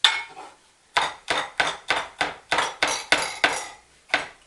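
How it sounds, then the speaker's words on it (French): A kitchen knife's flat presses and crushes peeled garlic cloves, giving about ten sharp, evenly spaced knocks in a quick steady rhythm. Each knock is close and distinct, with no talking. "je finis d'écraser l'ail"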